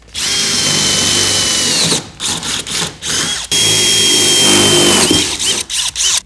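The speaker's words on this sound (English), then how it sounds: "we're going to use 5/16 inch drill bits for these 2 locations on the bed rail" A power drill with a 5/16 inch bit bores into the bed rail of a Ford F-150 pickup, whining loudly and steadily in two long runs separated by a series of short stop-start bursts, close up with no talking.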